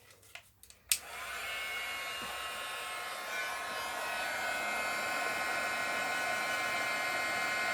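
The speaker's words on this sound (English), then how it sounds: "And then I'm going to turn on my heating gun." A heat gun blows a steady, loud hiss of hot air over embossing powder on paper, starting abruptly after a few faint handling taps and holding an even roar to the end.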